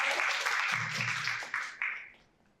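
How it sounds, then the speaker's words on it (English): Audience at a writers' panel applauds steadily, with a brief low voice murmuring underneath, then the clapping thins to a few final claps and fades out. "Can we have a big round of applause for him?"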